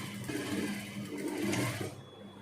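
A sewing machine runs in two short bursts while stitching a seam on a kurti, a steady close mechanical whir that stops near the end, with no talking.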